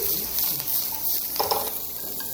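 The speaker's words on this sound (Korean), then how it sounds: "좀 타들어간 듯하면 타들어가는 듯하게 계속 볶아줘야 돼" Vegetables and chili peppers sizzle and crackle while being stir-fried in a pan, with brief scraping stirs over a steady, close hiss.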